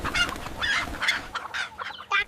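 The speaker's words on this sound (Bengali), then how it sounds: "অনেক টাকা দিয়া এই মুরগিটা আনলাম" A chicken bought at a market clucks in several short, close bursts, each choppy and throaty, with brief pauses between them.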